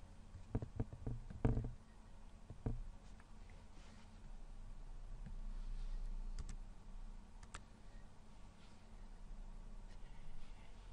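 Keys clatter on a computer keyboard in a quick burst of clicks early on, followed by sparse scattered taps over quiet room hiss.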